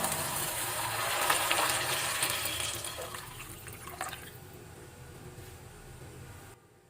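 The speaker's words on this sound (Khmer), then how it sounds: "បងប្អូនខ្ញុំចាក់ទឹកដូងកន្លះលីត្រចូល" Half a litre of coconut water pours into a cooking pot in one steady, rushing stream that starts loud, gradually softens to a thinner trickle, and briefly cuts out near the end.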